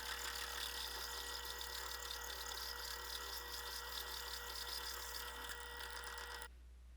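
A drill bores a hole in steel, stepping up to a U-size bit for a 7/16-14 tap, a steady high whine with a low hum beneath, faint and even before stopping abruptly near the end.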